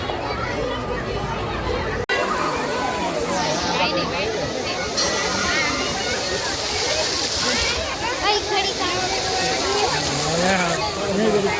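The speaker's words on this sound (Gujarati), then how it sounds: "અહીંયા ફુવારા ચાલુ છે" Water fountains running at a crowded village fair by a Mahadev temple, a constant splashing rush beneath lively crowd chatter and children's voices.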